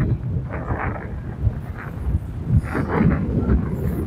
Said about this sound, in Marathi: ड्रोन एवढं वारा चालू आहे की ते ड्रोन आमचं स्टेबल राहत नाहीये